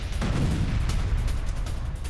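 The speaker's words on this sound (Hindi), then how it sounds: "यूक्रेन की आर्टिलरी ब्रिगेड ने बनाया निशाना।" Artillery fire strikes a Russian armored vehicle in war news footage: a loud, dense burst of booming impacts and crackling noise fills the short stretch without pause.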